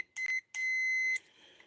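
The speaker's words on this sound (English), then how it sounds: "It'll beep when it wants to for continuity." A Fluke multimeter gives continuity beeps in a workshop: two short, high electronic beeps, then one longer sustained tone, all clear and close.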